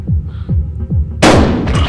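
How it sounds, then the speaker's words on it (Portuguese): A loud, sharp shotgun blast in the video game Buckshot Roulette bursts in close, preceded by a rhythmic low throbbing pulse, with a second fainter burst right after. "Vou dar um tiro nele."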